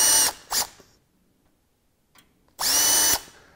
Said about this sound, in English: drill new holes on this set of fender skirts